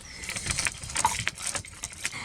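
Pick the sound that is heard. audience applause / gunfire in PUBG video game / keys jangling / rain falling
keys jangling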